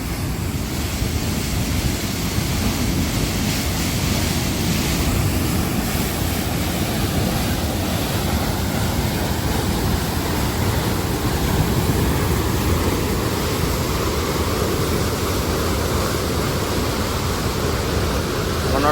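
Water gushes steadily from a motor pipe at a pump house near a stream, a loud continuous broadband rush that never lets up, with no talking over it.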